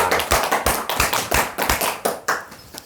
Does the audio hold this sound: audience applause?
yes